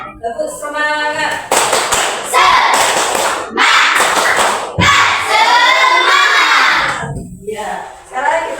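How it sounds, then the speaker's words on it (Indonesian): A school class performs a rhythmic clapping chant, with loud, close bursts of hand claps in patterned groups alongside children's and a teacher's chanting voices. "tepuk semangat"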